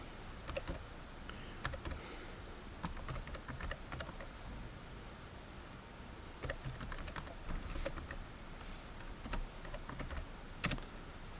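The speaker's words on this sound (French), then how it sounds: "je vais le taper rapidement." Fast typing on a computer keyboard, close and clear, with irregular bursts of key clicks and short pauses between them and no speech.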